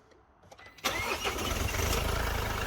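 A Mercedes W212 car engine cranks and catches abruptly, then settles into a steady, close idle after a few quiet clicks and rustles.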